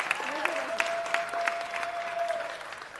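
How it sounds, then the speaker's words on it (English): Applause from an audience at a city council meeting honors a departing staff member, with steady clapping and a few louder claps over a faint sustained tone and some background voices. "Can we just give her a big round of applause?"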